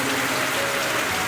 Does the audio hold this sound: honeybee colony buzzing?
no